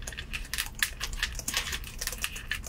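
Mechanical Cherry MX keys with per-key RGB on an MSI Titan 18 HX gaming laptop, clacking in a quick, steady run of close, crisp keystrokes with no speech.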